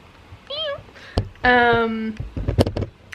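A cat meows several times nearby, a short wavering cry followed by a longer, louder drawn-out meow, with a person speaking briefly around the calls.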